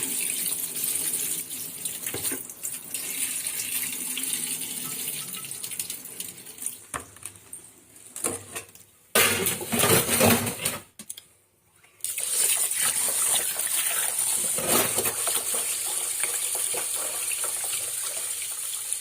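Soaked ration parboiled rice is washed in water at a sink, with steady running water from a tap and sloshing as the grains are rubbed, continuous and close apart from a brief pause.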